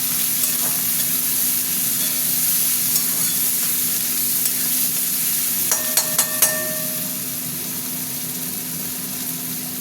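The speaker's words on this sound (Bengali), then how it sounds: "পেঁয়াজটা ভাজা ভাজা হোক।" Onions frying in hot oil with bay leaf in a pan, a soft, steady sizzle with a few clinks and scrapes of stirring midway.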